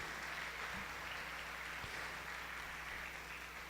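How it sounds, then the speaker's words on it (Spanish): A church congregation applauds steadily at a sermon, a dense wash of clapping held at an even, moderate level for several seconds with no voice over it. "¿Cuánto le pueden dar un aplauso a Dios por ese amor incondicional que nos tiene?"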